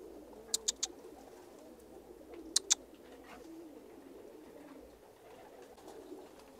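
Pigeons of various breeds coo softly in a low murmuring chorus, with a few sharp bright chirps or clicks standing out near the start and middle, no talking.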